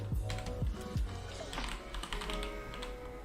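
Rapid typing on a computer keyboard during a Monkeytype speed test, a busy stream of quiet clicking keystrokes close to the microphone, with some faint background sounds mixed in.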